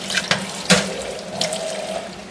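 Tap water pours over an upturned dish in a kitchen sink, a steady close splashing wash with a few sharper splashes and no talk.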